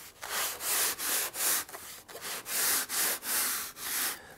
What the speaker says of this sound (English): you can use a long sandpaper block like this. You just want to slide it along and true up that edge like that